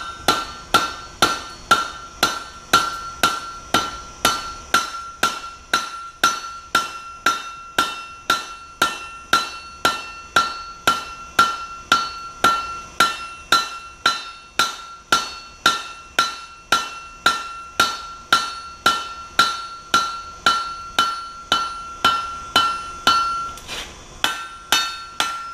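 A blacksmith's hammer strikes hot steel while forging a long taper, ringing in a steady, evenly paced series of loud, bright metallic blows repeated dozens of times with a short pause near the end.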